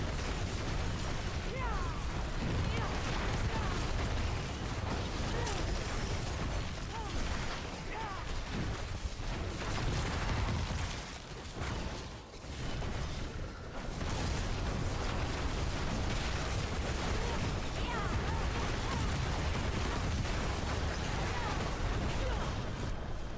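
Meteor strikes in the video game Diablo 4 make a dense, continuous roar of booming explosions and crackling bursts, loud and layered with little pause throughout.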